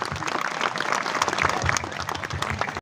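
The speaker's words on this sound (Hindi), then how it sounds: "ताली बजाओ।" A group claps hands in a dense burst of applause that continues steadily for a few seconds, then stops abruptly.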